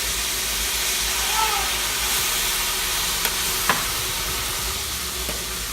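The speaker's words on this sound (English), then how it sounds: "So we're just gonna cook it for a minute in this sauce." Chicken simmering in orange sauce in a pan, a steady broadband sizzle and hiss with a couple of brief utensil clicks, close and continuous without talk.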